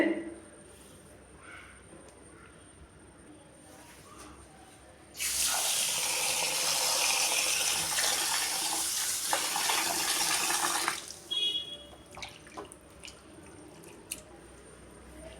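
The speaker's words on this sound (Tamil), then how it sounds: "திரும்ப நம்ம பச்சை தண்ணியில் ஒரு தடவை அலசிக்கலாம்" Cooked vermicelli is rinsed under cold running tap water in a kitchen, a loud steady rush of water lasting several seconds amid quieter drips and clinks before and after.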